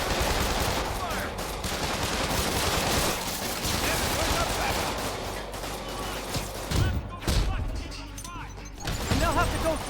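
Gunfire and combat noise rattle through a fight against the Sinister Six in a Spider-Man video game. Continuous loud shooting runs throughout, with heavier impacts near the end and occasional voices.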